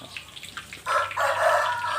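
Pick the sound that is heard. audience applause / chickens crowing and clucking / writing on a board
chickens crowing and clucking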